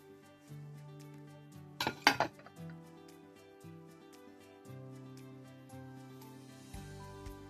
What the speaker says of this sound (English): Place a small plate on top of the leaves to keep them submerged